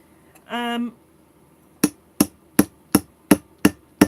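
A punch taps pinprick holes into a recycled lamp shade with seven sharp, evenly spaced knocks, close and clear, after a short hum.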